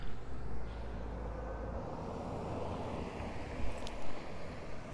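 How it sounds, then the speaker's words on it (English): Strong gusty wind buffets an outdoor microphone with a low rumbling roar that swells in bursts, loud and continuous, with no talking. "Right now it's a lot of wind today. I'm pretty sure you guys can hear it too."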